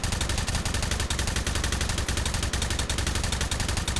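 An M249 SAW machine gun fires in a VR video game as a loud, continuous rapid burst of evenly spaced shots that runs for several seconds with no pause.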